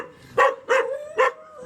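Several dogs bark in a farewell moment in Mindanao, three loud barks spaced about half a second apart, close by, with a faint whimpering tail at the end and no talk.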